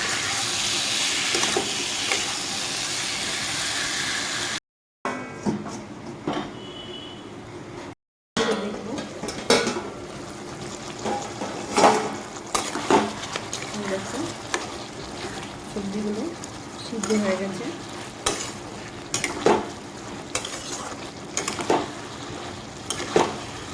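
Vegetables with potato, spices and cumin powder being stir-fried in a pot: a steady sizzle broken by repeated scraping strokes of a spoon, with a short drop to silence early on.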